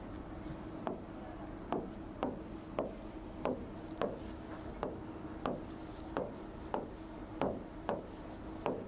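Chalk or marker scratching across a board while a diagram is drawn, a run of short rubbing strokes about every half second with sharp taps at stroke starts, close and fairly quiet.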